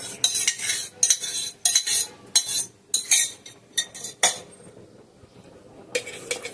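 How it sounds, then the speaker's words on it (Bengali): Yogurt beaten hard in a bowl for goat meat curry, with a spoon clinking rapidly against the rim in quick, irregular bursts, then a pause and a final flurry. "দইটাকে ভালো করে ফাটিয়ে নেব"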